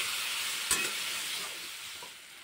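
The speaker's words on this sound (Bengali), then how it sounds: "সব কিছু দিয়ে আরও কিছুক্ষণ আমি এরকম একটু নাড়াচাড়া করে নিয়েছি।" Rui fish and potatoes stirred in a hot pan: a steady, close sizzle with one sharp scrape of the spoon early on and fainter stirring knocks after, no talk.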